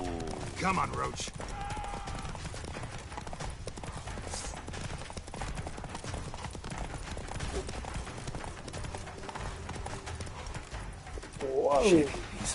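Horse hooves clip-clop at a gallop through a video game chase, steady and fairly close, with a horse whinny near the start and end, under game music and characters talking.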